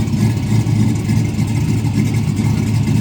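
A 1965 Chevrolet C10 truck engine with a performance cam idles outdoors, a steady, loud low rumble with a slightly lumpy pulse that holds even throughout, no voices over it.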